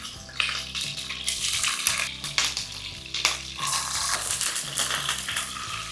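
Eggs frying lightly in oil in a pan for Chettinad egg curry, a constant bright sizzle and crackle with occasional clinks and stirring scrapes, close and steady.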